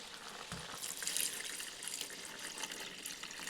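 Water poured into a pan of browned, oily spicy chicken curry in a village kitchen, a soft continuous splashing hiss at moderate level with a low thump near the start, no talking.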